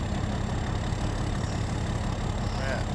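Tractor engine idling in Farming Simulator 22, giving a steady low mechanical hum that stays even and uninterrupted for about three seconds, with no talking.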